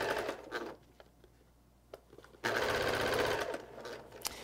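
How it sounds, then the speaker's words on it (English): A sewing machine chain piecing quilt blocks, its rapid needle rattle running in short bursts, pausing in a quieter stretch with light handling clicks, then resuming in a loud sustained run close by. "I'm going to go ahead and sew a few of these pieces together because I like to chain piece"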